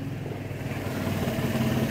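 A small Motorynka moped engine buzzes steadily at moderate distance on a pedestrian street by a restaurant, its mid-pitched drone swelling slightly as it passes.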